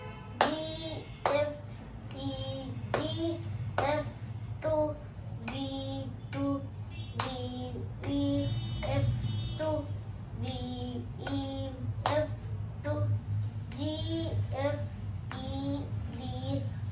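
A child claps hands in a steady beat of sharp, close claps while reciting a little bird rhyme aloud, with a keyboard backing tone humming underneath.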